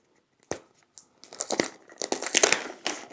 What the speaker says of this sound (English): let's take some more of this expensive plastic